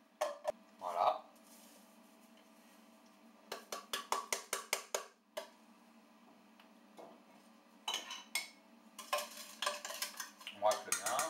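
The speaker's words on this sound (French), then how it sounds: "On racle bien." A utensil scrapes and stirs panna cotta mixture in a bowl in quiet bursts of clinking and scraping strokes, separated by pauses, over a low steady hum.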